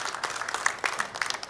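A studio audience on an Armenian TV show breaks into applause, a dense, steady patter of many hands clapping at moderate loudness with no speech over it.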